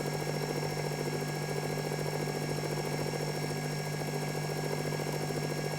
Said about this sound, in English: this is conventional milling still. Leaving a nice finish inside the slot.